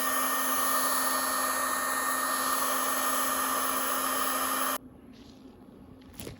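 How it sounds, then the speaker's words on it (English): A heat gun runs with a steady, loud high-pitched whine and airy rush while warming a part on a 1990 Kawasaki ZXR750 during restoration, then cuts off abruptly, leaving a quiet room with faint small noises. "or the heat gun, I should say."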